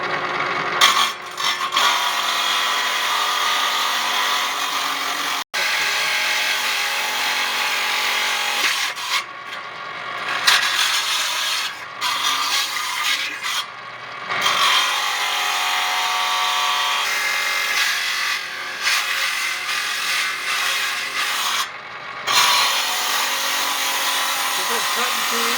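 A saw cuts through a large agate stone in a steady, loud grinding whine that continues with short pauses and occasional knocks, while a person speaks at times over it.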